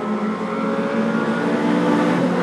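Short track race cars roar together in a Super Short Track Racing Series race, a steady loud blend of engines and tire noise with no voices.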